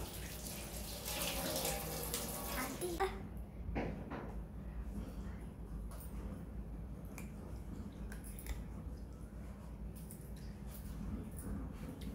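A tap runs while raw mango is washed in a kitchen, making a close splashing rush for about three seconds before it quiets to faint handling sounds and low background noise.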